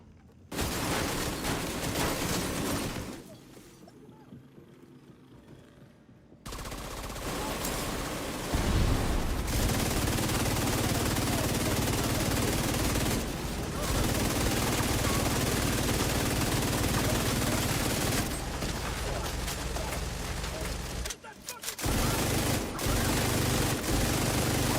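In The Division 2, an ammo stockpile detonates in a dense, continuous barrage of rapid gunfire and bursts that lasts most of the stretch, broken by a couple of short quieter gaps.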